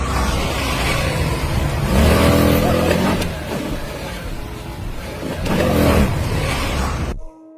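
A vehicle fitted with an illegal loud exhaust revs hard during a roadside sound check by traffic inspectors, with two strong surges of engine roar between steadier running, loud and close, then cutting off abruptly.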